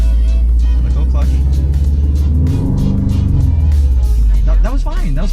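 A 2017 Subaru STI engine idles with a deep, close rumble, then is revved in neutral to about 2000 rpm. The pitch rises and then settles back, while voices talk over the engine.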